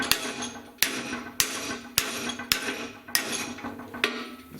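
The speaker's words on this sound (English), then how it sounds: "So I'll just put that in the vise, and then we'll just bend this out a little bit." A hammer strikes metal front bumper trim held in a vise on a 4x4 Pontiac Catalina project, giving about seven sharp, ringing metallic blows at an uneven pace of roughly one every half second.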